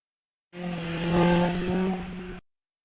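A race car at the Wiscombe Park hillclimb roars past close by, a loud, sustained engine note with shifting revs that rises, holds and then cuts off abruptly.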